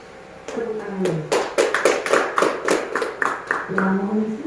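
An audience claps hands at an indoor school presentation, a loose burst of many close, sharp claps that starts suddenly, holds steady for a few seconds and then thins out under a faint voice.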